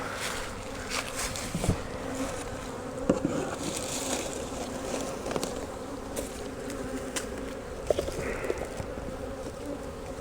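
A dense, steady buzz of many honey bees, mostly nurse bees scooped from a hive, fills the air up close, continuous throughout with small bumps and rustles.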